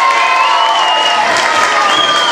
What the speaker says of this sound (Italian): E un applauso al ristorante Viviani che ci ha ospitati oggi